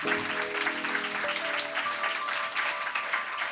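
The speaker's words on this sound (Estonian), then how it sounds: "teeme Ratas ja Kohvil ühe aplausi" A studio audience on an Estonian comedy podcast claps steadily throughout, a dense, even wash of applause with faint tonal music underneath and no voices.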